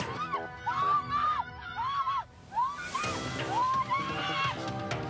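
Car passengers scream hysterically during a street protest as black-clad attackers smash the car's rear window; repeated high, wavering shrieks rise and fall over crowd noise and a loud crash.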